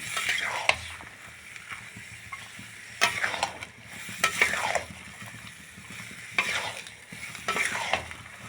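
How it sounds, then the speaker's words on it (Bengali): Boiled dried peas for vegetarian ghugni masala are stirred and sautéed in a pan, with a soft sizzle underneath and several distinct scraping stirs of the spoon. "তো আমি অনেকক্ষণ ধরে কষিয়ে নিয়েছি"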